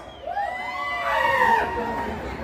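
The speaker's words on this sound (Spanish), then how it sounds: "Y allá atrás también quiero escuchar los fuertes esos gritos." A concert crowd at a mariachi anniversary show in Torreón, Coahuila, shouts and cheers in a swelling, sustained roar of many voices.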